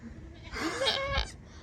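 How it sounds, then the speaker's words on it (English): Two baby goats bleat loudly and close by, a few high wavering cries running together over about a second, with the calls tapering off near the end. "And not only is it one baby goat, it's two baby goats."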